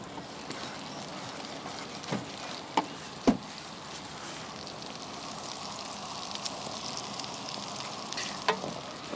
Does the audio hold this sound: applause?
no